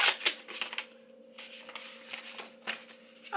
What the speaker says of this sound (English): let's open the card